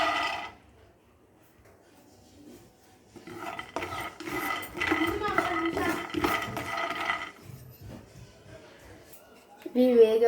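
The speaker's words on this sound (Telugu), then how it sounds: "ఫస్ట్ వచ్చేసి వేరుశనగ పప్పు వేయించుకోవాలి." Peanuts being dry-roasted in a pan for chintaku podi, with a run of close, rasping scrape-and-stir strokes of a utensil against the pan in the middle, quiet before and after, and a voice briefly at the end.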